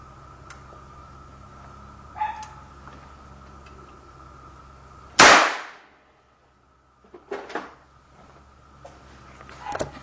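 A homemade gun fires a single test round, producing one sharp, loud report that decays quickly into near silence, followed by a few faint clatters.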